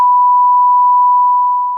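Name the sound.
censor beep bleeping out a word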